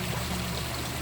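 Water flowing steadily at Caleruega Church, a soft continuous rushing wash with no breaks, fairly faint and alone over the moment.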